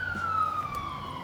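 A siren wails faintly in the distance, its tone sliding slowly downward over a low background hum.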